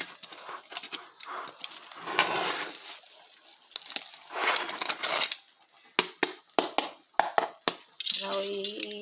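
Baked pork belly turned over in a pan, giving a cluster of clattering metal scrapes and knocks with sizzling between them, then a run of sharp, close clinks toward the end.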